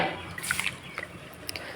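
Ground coconut and rice batter poured into a pot of cooking lentils in a home kitchen, brief soft wet splashes and drips, close and moderately quiet, with a few sharper plops near the end.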